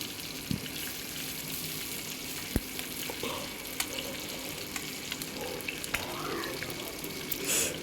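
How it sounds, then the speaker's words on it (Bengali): Panch phoron spices and green chili fry in hot oil with a soft, continuous sizzle and light spatter, occasional clinks and spatula taps, fairly quiet and close. "এখানে আমার পাঁচ ফোড়ন আর লঙ্কাটা দিয়ে দিয়েছি। এটা আমি এখন ভেজে নিচ্ছি।"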